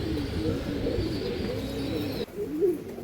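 A breeding adult Champa pigeon, a male with a white head, coos in low, soft, repeated warbling calls. The sound is close and steady against light background hiss and has no talk over it.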